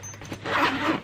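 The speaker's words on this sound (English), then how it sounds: "I'll do the outside zippers real quick." A zipper on the outside of a heavy canvas suitcase is pulled open in one brief rasping stroke, close and fairly loud.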